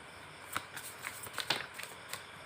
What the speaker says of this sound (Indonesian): kita shuffle oracle-nya ya